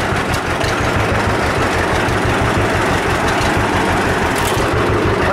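A John Deere 60 tractor engine runs loud and close, a steady low rumbling chug that holds without a break and with no voices over it.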